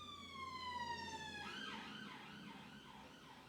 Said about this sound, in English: police cars and ambulances going past